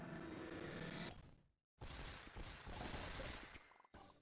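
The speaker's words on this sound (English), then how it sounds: "Disco ball rocket combo." Disco ball and rocket combo effect going off in the mobile puzzle game Toon Blast: a dense, crackling burst of clearing pops, a short silent gap, then another long rattling cascade ending in a brief final flurry.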